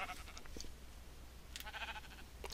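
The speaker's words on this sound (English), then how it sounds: "Oh, look, there's a sheep over there." Sheep bleating in a video game, a few short bleats at moderate distance over a low steady background hum, without talk.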